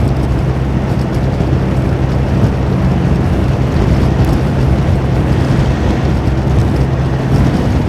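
A Honda Forza 350 scooter held at full throttle around 150 km/h, heard as a constant dense roar of engine and wind rush, loud and unbroken with no speech.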